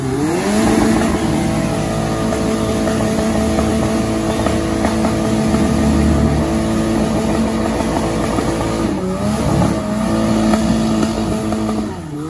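Turbocharged UAZ off-road vehicle engine revving on a difficult off-road course, a loud sustained drone with rising and falling pitch and a sharp rev swell near the end, running continuously without talk.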